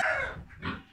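Barn roosters give a short, fairly faint crow that breaks into a second brief squawk, with no talk.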